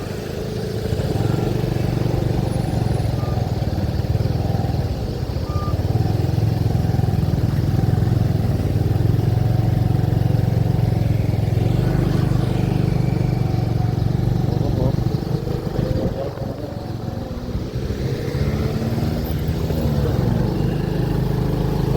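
Congested city road in Vientiane, Laos, with a steady drone of idling and passing motorcycles and cars in a traffic jam, and a constant low engine rumble throughout.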